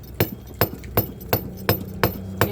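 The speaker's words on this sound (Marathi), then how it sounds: "हातोडी दे. RCC मध्ये खिळा घुसतोय." A hammer driving a nail into a poorly cured RCC concrete slab on a municipal construction site, seven sharp, evenly spaced metallic strikes, close and loud.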